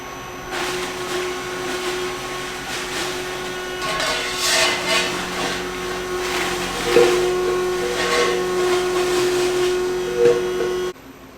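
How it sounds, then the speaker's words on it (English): A cold press juicer grinds kale with a loud, continuous whirring and hissing drone and a steady high tone, running unbroken for about ten seconds before stopping abruptly. "I'm gonna run some kale through and see what happens, and if it's not grinding up well, then I'll use a Vitamix."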